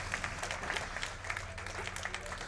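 An audience at a speedrun event claps for a couple of seconds, a soft, scattered patter of hands heard from some distance, with a voice faintly under it.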